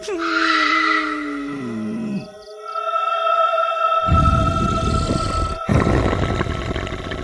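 Eerie wailing and moaning, the crying sound of a haunted village well at night in a Hindi horror story, drawn-out tones sliding downward, then broken by heavy rumbling noise bursts with a sharp cut.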